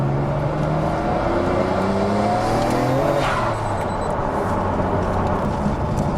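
A Nissan Skyline GT-R R34 engine revs hard under throttle, its harmonic tones climbing and falling as it picks up and eases off, loud and continuous over steady road and tire noise.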